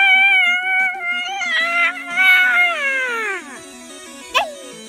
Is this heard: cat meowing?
yes